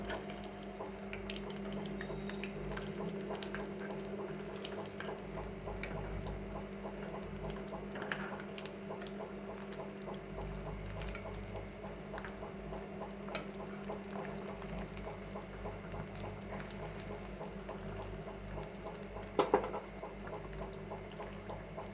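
Pieces of stingray fish fry in a pan for stingray fish 65, a steady crackling, bubbling sizzle of oil that runs without pause from start to end, with one brief sharper clack near the end.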